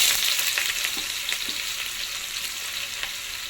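Onions frying in hot oil with urad dal, mustard seeds and fenugreek for a fish curry base: a loud, steady crackling sizzle with small pops throughout, close up and without talk.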